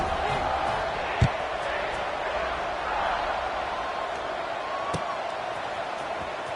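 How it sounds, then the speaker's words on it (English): A football stadium crowd buzzes steadily after a score, a dense, continuous roar of many voices in a large open venue, with a couple of brief sharp thumps standing out above the sustained din. "this crowd is buzzing after that last score"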